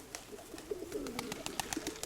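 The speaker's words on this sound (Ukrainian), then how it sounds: "До мене ще трійка голубів нових приїхала" Soft, throaty pigeon coos repeat in short bursts, close by, with faint chirps and light rustling in between; high-flying tumbler pigeons.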